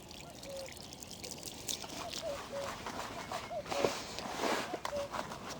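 Water slowly poured into fishing groundbait gives a soft, continuous trickling and splashing close by, rising and falling gently over several seconds against a quiet outdoor background.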